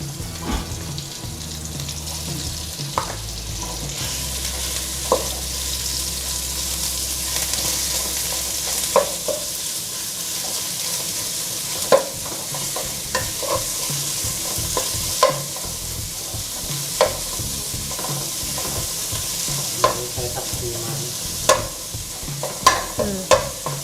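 Minced pork sizzles and crackles in a hot pan while a utensil scrapes and stirs it, with sharp intermittent clacks over a steady hiss.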